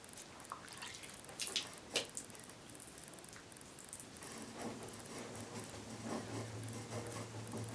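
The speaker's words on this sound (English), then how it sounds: "wet it down, dunk the paper in the water" Sandpaper is dunked and wetted in water for color sanding, giving quiet drips and small splashy patters with a few brief sloshes, faint and up close.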